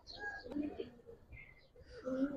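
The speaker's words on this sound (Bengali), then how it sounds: "এই কবুতরটা সুন্দর করে ঘুরে ঘুরে ডাকে" Coos from a young Giribaz pigeon of the Palla line, soft rolling calls at close range, breaking off briefly and then returning, mixed with light background noise.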